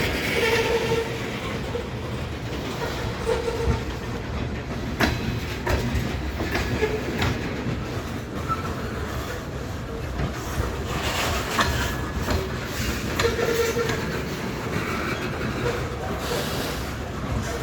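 A train rolls through a crossing on a pedestrian path in a metropark, a steady rumble with clacking wheels and faint horn blasts, heard at moderate distance with little else around.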